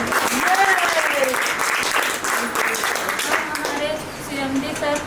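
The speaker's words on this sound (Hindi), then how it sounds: "उसके लिए जोरदार ताली।" Loud crowd applause at a franchise launch ceremony in Ayodhya, dense clapping running throughout while people talk and call out over it.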